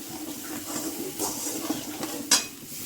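Water rinsed from a spice bowl goes into a hot pan of green chili paste and spices, producing a steady sizzling hiss with a couple of brief sharper splashes.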